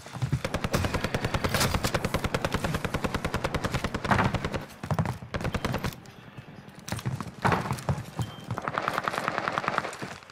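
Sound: gunfire in video game Call of Duty Warzone Pacific

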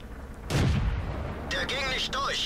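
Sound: Panther tank cannon shot in World of Tanks video game

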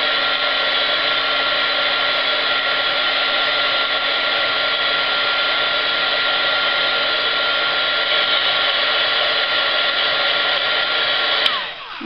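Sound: heat tool blowing to dry craft charms

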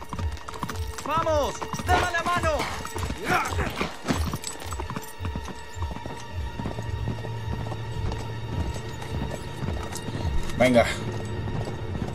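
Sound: horse galloping and whinnying in video game Uncharted 3

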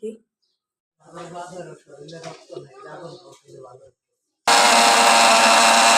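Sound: electric blender grinding soaked spices

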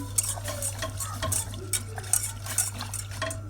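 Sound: slowly stirring thickening pastry cream

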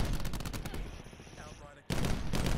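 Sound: gunfire in Call of Duty Black Ops 4 video game

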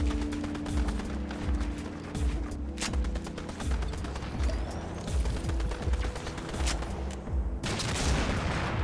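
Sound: gunfire in Fortnite video game

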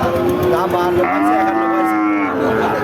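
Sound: cow mooing at cattle market

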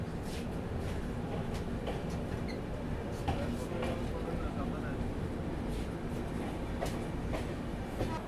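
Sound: Shatabdi Express train departing Bolpur station

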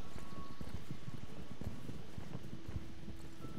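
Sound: horse walking through snow, Star Stable Online video game

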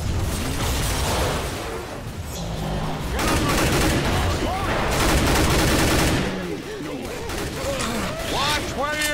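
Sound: gunfire in Left 4 Dead 2 video game

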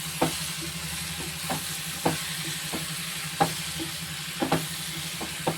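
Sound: prawns sautéing in masala in a pan

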